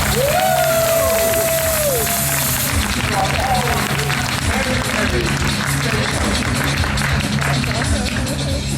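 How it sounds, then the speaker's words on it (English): A large crowd at a tech conference keynote applauds loudly and steadily throughout, with a few voices and whoops rising over the clapping near the start. "Give yourself a big round of applause."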